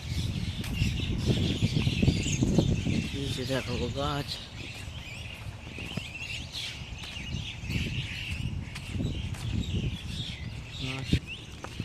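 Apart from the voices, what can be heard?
birds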